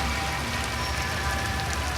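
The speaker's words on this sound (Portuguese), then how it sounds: "As pessoas desta parte do mundo estão acostumadas com chuva pesada, mas não com chuva cor de sangue." Heavy rain falls steadily and densely, a close, even hiss of drops striking surfaces with no pauses and no voices.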